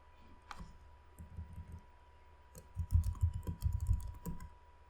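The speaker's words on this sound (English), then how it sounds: "we'll right click on our Java folder and click on new and then click on package" Computer mouse clicking in short sharp bursts, several quick clicks close to the microphone with brief pauses between them and a busier cluster near the end, alone with no talking.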